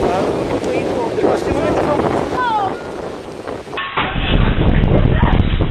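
Violent tornado winds roar and buffet the microphone in a continuous loud rush, with rattling and flying debris under brief shouted voices.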